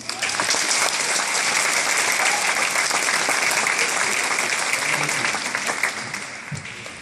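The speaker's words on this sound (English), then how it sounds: "So one last round of applause before you take a seat." Sustained audience applause fills a medical school commencement hall, a dense, steady wash of many hands clapping at full volume that holds for about six seconds before tapering off.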